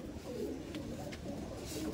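Andhra Madras pigeons of a good breeding line coo softly in a low, continuous murmur close by, with a faint background hiss and no talking.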